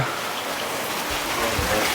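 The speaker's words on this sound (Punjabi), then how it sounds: "ਅੱਜ ਸਾਡੇ ਤਾਂ ਇੱਧਰ ਵਧੀਆ ਮੀਂਹ ਪਈ ਜਾਂਦਾ" Dense, steady rain hissing on surfaces nearby, a constant wash of sound with a few low thumps near the end.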